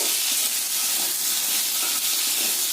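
Potatoes fry with salt in a pan, giving a loud, continuous steamy hiss that stays even and close throughout, with no voices.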